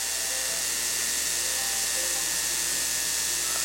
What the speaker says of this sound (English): that's the spray out of that dam on that Boise River